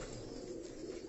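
A brief burst of low, throaty cooing from pigeons kept on a Karachi rooftop, close and steady, with no talking.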